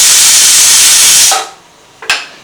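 A kitchen pressure cooker, switched off after three whistles, vents steam in a loud, steady rushing hiss that suddenly cuts off, followed by a short sharp puff of release.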